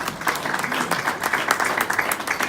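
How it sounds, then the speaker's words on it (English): Wedding guests applauding after a ceremony reading, a steady wash of dense clapping from a modest crowd that holds even for a couple of seconds without any voice over it. "Give a round of applause"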